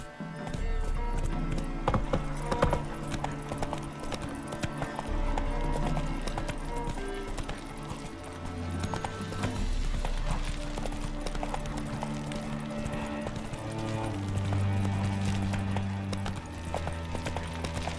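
Geralt's horse Roach gallops in The Witcher 3, a steady rhythmic clip-clop of hooves running continuously under a swelling orchestral score.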